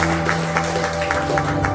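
A church congregation claps during a sermon. The clapping comes in soft, regular bursts over a sustained musical drone.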